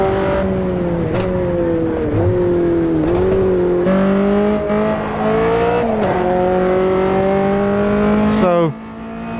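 A roughly 100-horsepower race car with lots of aerodynamic grip and cold tires, driven in the racing game Automobilista 2, gives a loud, steady engine drone whose pitch climbs and dips through repeated gear changes before cutting off sharply near the end.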